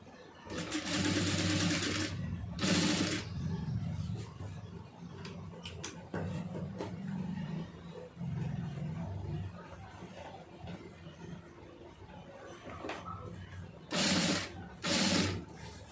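A sewing machine stitches piping onto fabric, with long bursts of rapid whirring stitching near the start and end and softer, quieter work between them.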